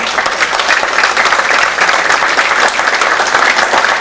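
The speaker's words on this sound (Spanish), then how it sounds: "pido un fuerte aplauso para el ingeniero" A live audience at a chemical engineering week event gives an engineer a loud, dense round of applause that continues steadily for the whole stretch, with no speech over it.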